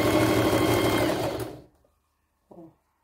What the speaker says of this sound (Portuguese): Aí passa pezinho de máquina aqui. Aí você vai olhando o risco, posicionando o paninho aqui em cima e passa a costura.